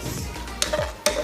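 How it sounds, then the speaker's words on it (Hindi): Ginger garlic paste fries in a pan while a spoon stirs it, producing two sharp scraping clinks against the pan over a soft background sizzle, close and fairly loud. "3 चम्मच अदरक लहसुन का पेस्ट डाल दिया। इसको हम लाइट ब्राउन करेंगे।"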